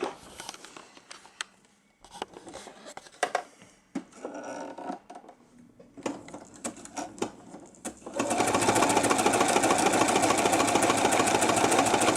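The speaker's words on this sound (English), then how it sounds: "Now we're just going to satin stitch all around that edge." A sewing machine runs a satin stitch around a fabric edge for a St. Patrick's Day table centrepiece. Quiet handling noises come first, then the motor whirs steadily and closely for the final few seconds.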